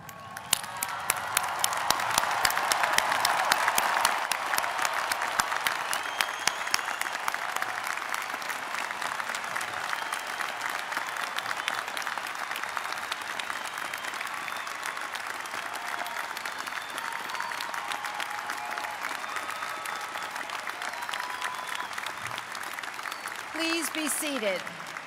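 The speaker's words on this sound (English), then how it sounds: "we all stand up, everyone, including the graduates, and applaud the class of" Sustained applause from a university commencement audience on its feet for the graduating class of 2011, a dense wash of clapping that swells early, holds steady, then thins toward the end.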